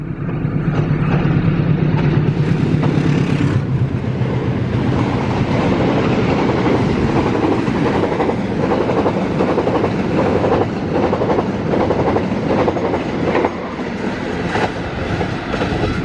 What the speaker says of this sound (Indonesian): Kereta api tercepat di jalur utara Argo Bromo Anggrek sudah melintas